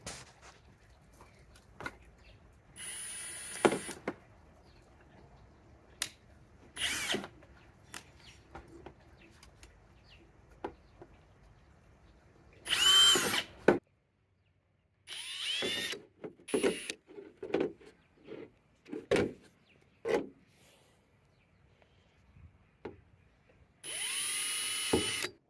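A power drill bores holes in short bursts, its whine starting and stopping repeatedly with quiet gaps and some handling clatter, the longer runs sounding close and fairly loud.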